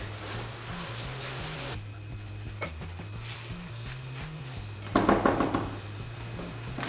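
A spoon stirs eggs into a rice ball mixture for filled cheese rice fritters, scraping and clinking against a bowl in bursts, louder near the start and again toward the end, with a low steady hum behind it.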